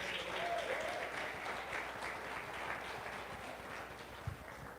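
An audience claps in a steady, sustained round of applause, faint and somewhat distant, with a voice faintly underneath.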